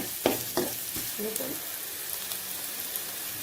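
Onions and curry leaves fry in a pan for a dry curry leaf chicken, a loud crackling sizzle broken by a few sharp spatula scrapes and taps early on, then settling into a steady hiss.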